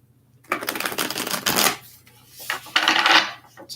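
Illuminated Earth Oracle deck cards being shuffled by hand, two bursts of riffling close up, separated by a short pause.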